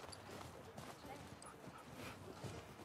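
A dog whimpers and yips softly in The Last of Us Part II, faint short whines scattered under a voice and low background game ambience.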